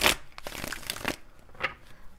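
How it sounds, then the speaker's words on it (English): A deck of tarot cards is shuffled by hand during a reading, a few quick papery riffles and crinkly slaps close by, with no talking. "I'm just going to do a couple shuffles"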